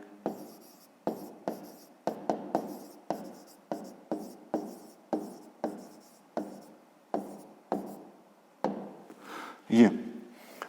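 A pen writes an answer on paper for a fifth-grade maths exercise, with quick scratchy strokes in short bursts separated by pauses, close and clear, ending in a louder tap.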